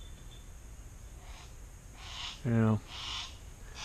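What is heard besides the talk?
hunting bird calling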